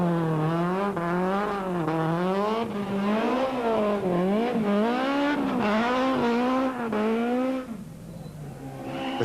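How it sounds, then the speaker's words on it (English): A rally car on the Cape Rally stage roars into a farmyard too fast for a left-hander, its engine revving and wailing in rising and falling waves for several seconds before the sound drops away abruptly near the end. "Sharp Van der Walt flies into the farmyard but carries too much speed for the left-hander, ending up facing the wrong way and losing more time"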